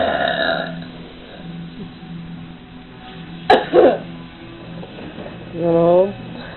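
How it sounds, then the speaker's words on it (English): A person burps loudly in a home burping contest, with a few short, close eructations midway and a longer, drawn-out belch near the end. Other sounds and background noise fill the gaps. "I am making a burping video."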